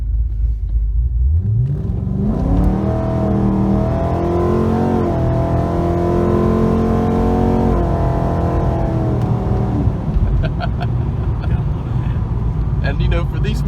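Pontiac G8 race car with Michelin tires accelerating at part throttle, engine note climbing in a steady rising sweep, loud and close inside the car, with rumbling road noise throughout and brief voices near the end.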